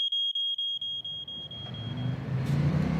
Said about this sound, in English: It sets off the smoke alarm.